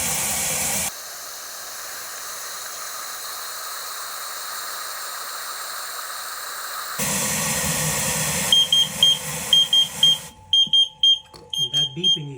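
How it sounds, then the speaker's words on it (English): A sump pump's backup alarm beeps in a basement, starting as a short series of regular, fairly close electronic beeps after a stretch of hiss and pump noise, then breaking into quicker, choppier beeps near the end. "that beeping you hear is telling us that the secondary pump is actually working the way it's supposed to"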